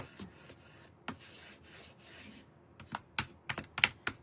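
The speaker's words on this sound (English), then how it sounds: "put some wax on it" Wax is rubbed over a vintage wooden shutter in short scrubbing strokes, a soft continuous rasp broken by several sharper, louder scuffs near the end; no talking.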